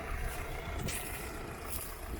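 YuMZ-6 tractor pulling an AG-2.2 disc harrow through sunflower stalks at night, a faint, steady engine drone mixed with a wind-like rush and occasional brief swells.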